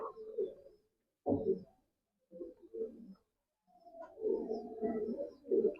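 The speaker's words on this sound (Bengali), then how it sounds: "এই দেখুন যে জিনিসটা নিয়ে এসেছি, ডায়মন্ড ডাব" A small diamond dove coos softly up close in several short, separated bursts of low, gentle calls, with quiet pauses between them.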